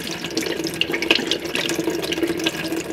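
A kitchen tap runs cold water in a steady, close, fairly loud stream that splashes continuously, alone without voices.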